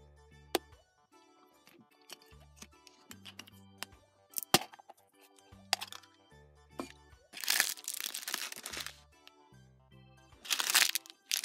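A toy dinosaur egg being cracked open, giving repeated sharp cracks and crunchy crumbling bursts at close range, with longer crinkling stretches in between and no talk.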